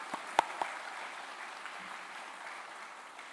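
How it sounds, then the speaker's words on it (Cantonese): An audience at a PolyU SPEED ceremony applauds staff members with faint, distant, steady clapping, a few sharper claps standing out near the start. "咁亦都俾啲掌聲我哋同事先"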